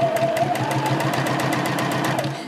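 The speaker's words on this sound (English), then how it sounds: "you're just going to sew all the way around" A sewing machine stitching around the edge of a fabric drawstring gift bag, a loud, close, steady rapid mechanical whirring with an even needle beat that slows slightly at the end.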